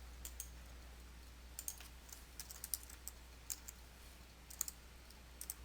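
Quiet, close computer keyboard typing: irregular bursts of light key clicks with short pauses, set against a faint steady hum, as an address is entered into a form field.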